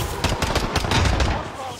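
Rapid video-game gunfire crackles in dense bursts throughout, a steady barrage of shots from a shooter game with a sniper, heard alongside a voice.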